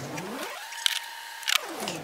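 A car engine runs close by with a steady mid-pitched hum whose tone sweeps up and back down as it revs, and a few sharp clicks sound over it.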